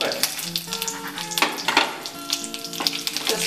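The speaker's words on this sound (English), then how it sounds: "Now I'm going to add my peanuts and almonds and the pepper." Peanuts, almonds and pepper crackle and sizzle in hot oil with dry red chilli and curry leaves, popping and spattering up close in irregular bursts.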